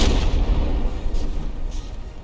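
Battleship guns firing in the game From the Depths, a loud, rumbling burst of heavy cannon fire with a rolling low boom that fades slowly, no talking.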